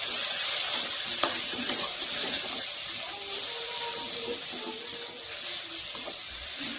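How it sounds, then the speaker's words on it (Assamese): Mankochu khar, an Assamese taro dish, is stirred in a pan, a continuous sizzling hiss with soft scraping knocks from the utensil and occasional clinks, close and fairly loud. "ধুনীয়াকৈ লৰাই দিয়া হ'ল।"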